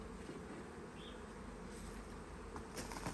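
Honey bees buzz steadily around hive frames being moved for winter freezer storage, a faint, continuous insect drone with no voices.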